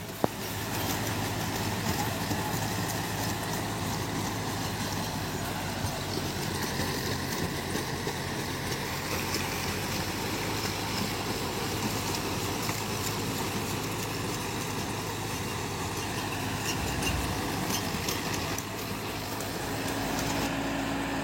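Two tractors, a Sonalika Tiger 60 and a John Deere 5405, cutting a field, with a steady engine drone and mechanical rumble running continuously at moderate distance, no talk.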